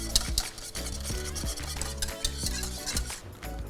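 A spoon stirs a thickening mixture of mawa, milk and rice flour in a pan, steady rhythmic scraping strokes against the metal with a faint sizzle, close and alone without any voice.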